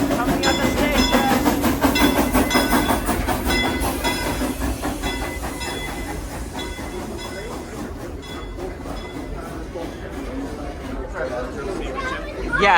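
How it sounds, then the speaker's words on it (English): Locomotive number 504, a steam engine, pulls a train into a station, with a steady rolling rumble and rail clatter throughout, fading slightly as it slows, while people talk over it. "Locomotive number 504 coming at the station."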